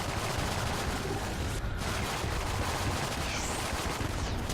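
Dense, continuous gunfire with piercing bullets in the video game Enter the Gungeon, a rapid unbroken stream of shots at steady loudness with no pauses.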